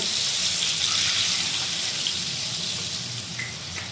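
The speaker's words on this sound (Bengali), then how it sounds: "আর এখন দিয়ে নেবো বন্ধুরা এর মধ্যে পরিমাণ মতো জল" Water is poured into a pan of spiced potatoes frying for a soybean recipe, a steady loud gushing and sizzling hiss that runs close and continuous and fades slightly toward the end.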